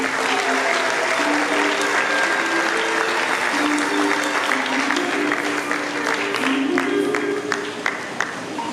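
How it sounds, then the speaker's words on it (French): Parents and congregation clap warmly and at length at a church youth group ceremony, a dense steady applause with murmuring voices and a few sharper claps near the end. "on applaudit très fort pour eux"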